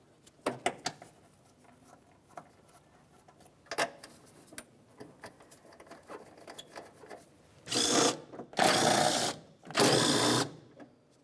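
Mounting bolts are started on a wiper motor assembly of a 2004–2006 Scion xB: light ticks and clicks of hand-turned bolts, then three loud, close bursts of a power tool whirring.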